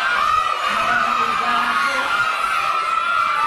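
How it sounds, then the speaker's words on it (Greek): Many voices shout and yell together in a Greek shadow-puppet play by Evgenios Spatharis, a loud, steady clamor of overlapping cries and whoops lasting the whole moment, with speech mixed into the noise. "Τι είναι ρε παιδιά, γιατί φωνάζετε."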